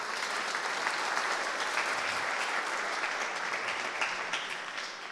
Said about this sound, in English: let's have another big round of applause for Aladino.